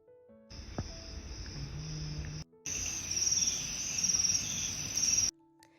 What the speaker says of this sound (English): just the sound of crickets and the stream nearby